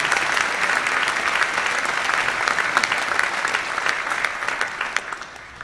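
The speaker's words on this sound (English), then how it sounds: "a last round of applause for the graduates" A large audience at a graduation conferring ceremony claps steadily and warmly, a dense, even wash of applause that holds at the same level throughout.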